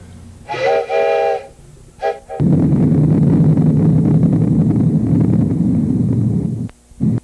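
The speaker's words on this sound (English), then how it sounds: "Hey, there comes another train." A loud, steady low rumble of a passing train in the Danville area in 1939 fills most of the clip, preceded by two sharp bursts of a harmonic whistle.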